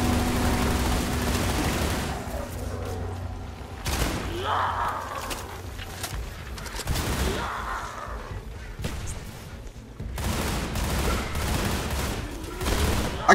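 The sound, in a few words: Doom shotgun firing in Roblox video game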